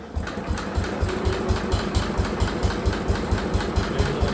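An Allis Chalmers garden tractor engine, a marketplace find under repair, cranks over and over in a steady rapid chugging rhythm, loud and close, without catching.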